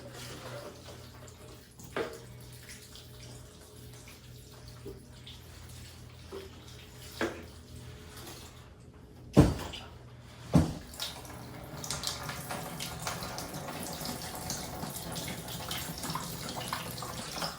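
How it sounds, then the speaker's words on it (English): Water trickles and drains through a potted Moonlight Philodendron after watering, a faint, steady indoor flow with a few louder splashes and drips partway through. "I wanna give a demonstration of how your water is supposed to actively drain out."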